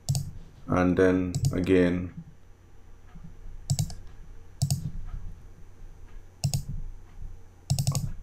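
A computer mouse double-clicks while a PowerPoint org chart is built, with several crisp click pairs spaced a second or so apart after a brief spoken phrase.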